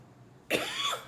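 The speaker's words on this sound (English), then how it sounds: "Nope, the cough's not going away." A single sharp cough bursts out after a brief quiet moment, close and fairly loud.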